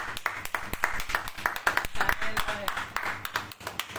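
A church congregation claps in praise of the Lord during a service, a dense, steady patter of many hands with voices and calls mixed in throughout.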